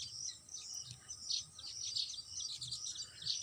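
Small birds chirp in trees near a temple, giving bright, rapid, overlapping tweets throughout at moderate distance, over a faint, quiet background.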